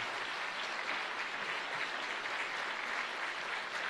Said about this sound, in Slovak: Áno, potlesk si zaslúžia všetci.